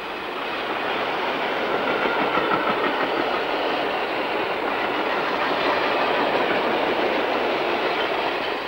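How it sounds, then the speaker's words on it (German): A long freight train rolls through a railway station, a steady loud rumble and rattle of wagons that holds without a break, with no talk. "da kommt gerade ein Güterzug durch."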